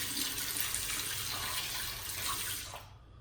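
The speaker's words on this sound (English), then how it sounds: "Let me wash off my face." Tap water runs steadily into a sink for a face rinse during a wet shave, a close, continuous splashing hiss that fades out at the very end.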